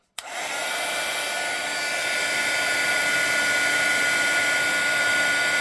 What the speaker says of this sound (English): now we're going to go at it with the heat gun again.